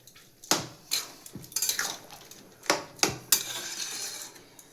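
Dried fish curry stirred in a cooking pot, with a spoon scraping and clinking against the metal in several sharp, close strokes, some louder than others, with no other sound.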